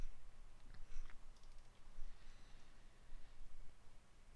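Soft, quiet keystrokes tap out a short command on a computer keyboard at an OS/2 command prompt on an IBM PC 300GL, a few faint clicks scattered over a constant fan-like hum.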